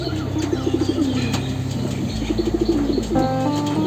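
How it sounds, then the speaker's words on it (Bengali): A male pigeon coos in a loft in a series of soft, rhythmic, rolling calls close by. Other birds chirp faintly in the background and wings flap briefly. "এটা একটা নর কবুতর"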